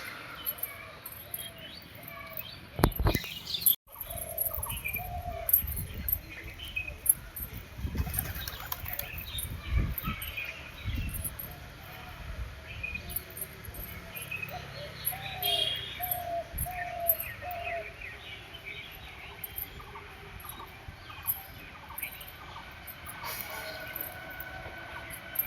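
Pigeons on a rooftop coo in repeated low soft phrases, with bursts of wing flapping and other birds chirping around them, plus occasional thumps and distant background noise.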